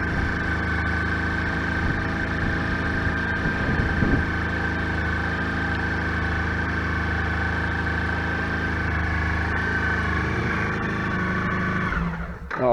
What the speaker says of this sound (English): That already sounds smoother, the engine.